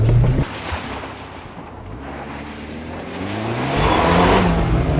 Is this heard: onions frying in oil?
no